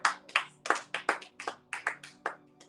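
Rhythmic hand clapping from a church congregation during a French-language morning worship service, steady beats of about three per second, moderately close and alone without talk.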